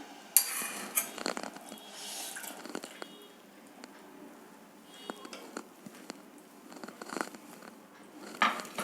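Jaggery syrup being poured and stirred into cooked black sticky rice in a pot gives faint scattered scrapes, soft wet clinks and drips of a spoon against the vessel, quiet and close.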